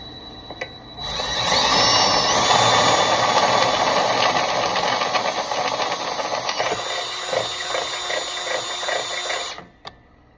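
A power drill whirs steadily for about nine seconds drilling a lubricated hole while installing a backup camera, a loud continuous grinding whine that cuts off abruptly at the end.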